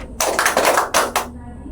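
A short series of crisp, close hand claps in a classroom group-guidance game, several sharp slaps in quick succession that ring briefly in the room before it falls quiet.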